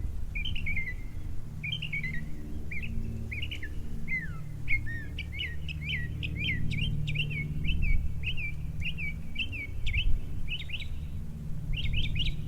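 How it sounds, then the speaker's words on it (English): A single songbird runs through a rapid series of varied chirps, whistles and trills, one phrase after another, clear and fairly close over low background rumble. "This is one bird mimicking all the other birds that he has heard throughout his life."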